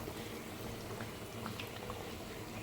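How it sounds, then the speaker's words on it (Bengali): Chicken meat in water boiling in a pot on a gas flame, a faint steady bubbling and burbling with small pops, continuous and alone. "এটা এখন টকবক করে ফুটলে আমি এর উপর একটা ঢাকনা দেব আর গ্যাসটাকে লো করে দেব।"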